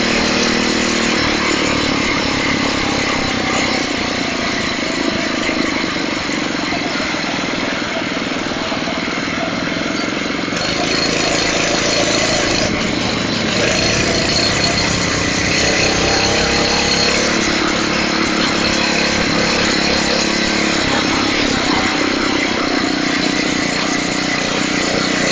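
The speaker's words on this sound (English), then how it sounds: "The trail starts to get more firm, and we're able to open the Phatmotos up." Phatmoto Rover motorized bikes ride a firm trail at open throttle, their small engines buzzing loud and steady throughout, with a brief shift in pitch partway through and no talk.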